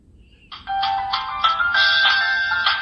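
A Pororo kids' toy phone plays its electronic ringtone, a loud, bright chiming melody that starts after a brief quiet moment and continues to the end, with no voices.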